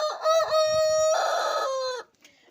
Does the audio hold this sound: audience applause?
no